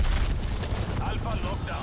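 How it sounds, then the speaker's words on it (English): Incoming artillery fire in the Union Axe Cold War video game: a dense, continuous barrage of rapid booms and blasts, loud and rumbling, with a voice talking over it. "Artillery targeting detected. Net call, incoming artillery."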